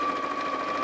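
A domestic sewing machine running continuously in a sewing room, a close, steady mechanical whir with a sustained hum and no pauses.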